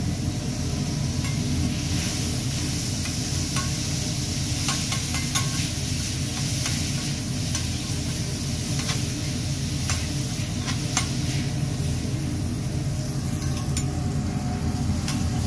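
Garlic butter sizzling on a hibachi teppanyaki griddle while being stirred, a steady dense frying hiss with scattered clicks of the spatula against the hot metal.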